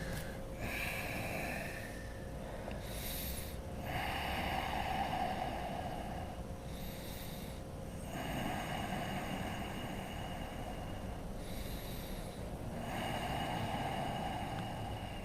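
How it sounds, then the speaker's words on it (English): Slow, deep breathing during a yoga hamstring stretch, long airy inhales and exhales repeating every few seconds over a steady background hum. "Breathe deeply"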